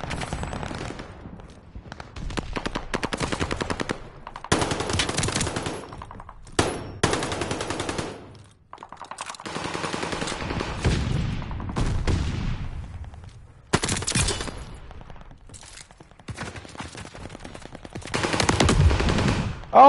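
Call of Duty: Modern Warfare multiplayer match with rapid automatic gunfire in repeated loud bursts, sustained strings of shots separated by brief pauses, close and dominant throughout.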